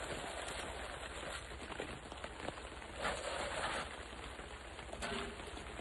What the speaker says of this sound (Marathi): छान पाऊस सुरू आहे.